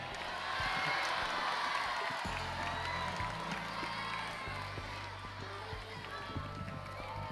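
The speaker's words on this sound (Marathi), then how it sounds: "जरा टाळ्यांचा हरिओम साकार या ना." An audience at a school foundation day gives applause and cheers, a soft, steady wash of crowd noise with a low hum beneath and a voice speaking over it.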